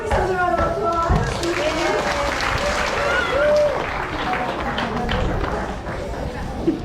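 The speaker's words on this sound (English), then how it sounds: "give yourselves a round of applause." A group applauds together at the end of a hula lesson at the Polynesian Cultural Center in Hawaii, with a dense patter of clapping and voices talking and calling out over it throughout.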